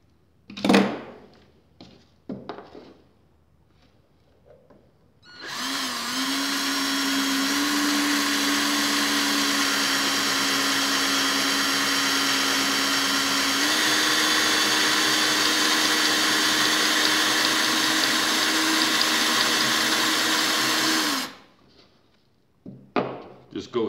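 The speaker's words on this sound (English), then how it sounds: "Now we'll continue to drill out the second rivet." A power drill bores out a rivet on a leather rider buckle, whirring loudly and steadily for about fifteen seconds with a slight pitch shift midway, framed by brief knocks and handling noises before and after.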